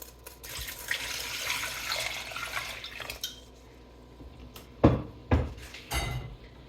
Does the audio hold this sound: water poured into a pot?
yes